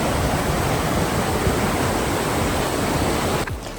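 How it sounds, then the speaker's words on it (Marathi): Fast, forceful river water rushes beneath a bridge in Doodhpathri, Kashmir, making a loud, steady roar that fills the whole stretch, with no voices, before easing slightly near the end. "आणि पाणीचा आवाज तुम्ही ऐकू शकता. एवढ्या फोर्समध्ये पाणी होतं, खूपच फास्ट पाणी वाहत येत होतं."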